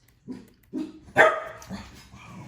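A dog barks several times in short, sharp bursts, fairly close, with brief pauses between barks and no talking.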